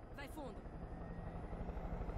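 A helicopter in Far Cry 5 gives a steady, low rotor drone throughout, fairly quiet and continuous under a brief burst of in-game sound near the start.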